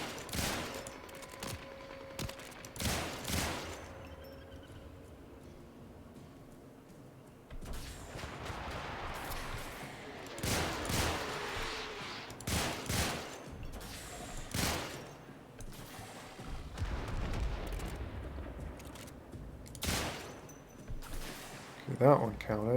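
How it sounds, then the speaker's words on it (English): Bursts of rapid gunfire from a burst-fire weapon in the video game Warframe, repeated clusters of sharp shots scattered through the stretch, mixed with game effects while someone talks over them. "Okay, this is a burst fire thing."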